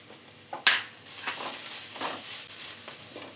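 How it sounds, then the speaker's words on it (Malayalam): Onion, garlic and crushed ginger sauté in a hot pan for a Kerala chicken and tapioca dish, with a steady close sizzle, a sharp clack near the start and spoon stirring scrapes throughout. "ഇതുപോലെ ഒന്ന് നന്നായി തന്നെ വഴറ്റിയെടുക്കണം"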